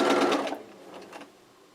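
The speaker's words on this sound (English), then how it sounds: "So I'm going to place it here on my sewing machine." A sewing machine runs in a quick burst of rapid mechanical stitching, then slows to a few brief whirs before stopping.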